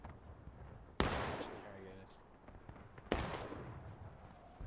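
Period musket gunfire in the video game War of Rights during a battle, two sharp volleys a couple of seconds apart, each trailing off in a long echoing rumble over a quiet background.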